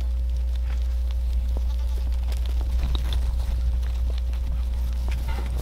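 Kiko goats bleat a few times at moderate distance over a loud, steady low hum, with light rustling and shuffling nearby.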